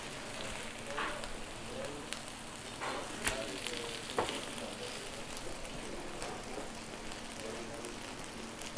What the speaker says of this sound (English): Smash burger, and we're going to give it a flip.